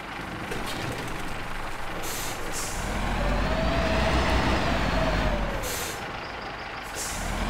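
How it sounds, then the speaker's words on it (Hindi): A heavy truck in the off-road driving game Spintires rumbles with a steady low engine drone that swells in the middle, and brief hissing bursts like air brakes come near the start and end. No voices are heard. "काफी अच्छी आवाज है इस ट्रक की।"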